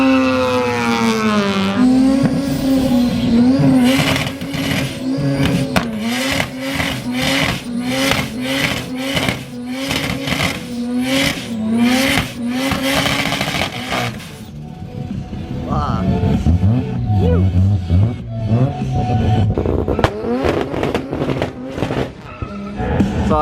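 Drag racing cars launching in a final, with loud roaring engines bouncing off the rev limiter and squealing tyres close by, followed by fading engine noise as the cars pull away.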